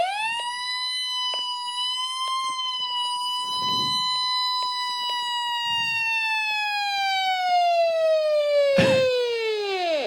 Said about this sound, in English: Some weather radios, for example, Midland 74109, have a siren like chiptune that sounds like a Federal Signal Q or something.